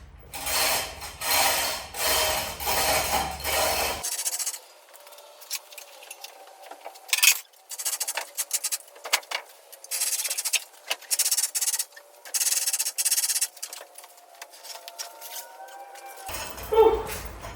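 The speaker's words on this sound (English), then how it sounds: "So now I'm going to try Dad's amazing gantry crane and lift it off." Chain hoist on a gantry crane lifting the heavy steel engine decks off an FV432 armoured vehicle in a workshop, with clanking, ratcheting and metallic scraping in irregular bursts, fairly close, with louder mechanical rattling at the start.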